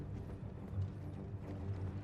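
Galloping hooves of an enemy rider's horse in Elden Ring, a quick rumbling rhythm of heavy beats, loud and close, with no talk.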